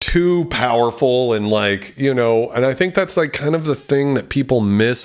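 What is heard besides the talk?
None of the usual background noises is heard.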